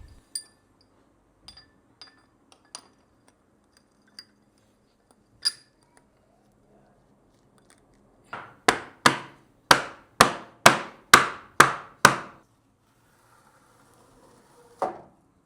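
Mosaic tile sheets tapped into place on a kitchen splashback wall, heard as scattered light clinks followed by a quick run of about eight sharp, evenly spaced taps, then one final knock, close and clear with no talk.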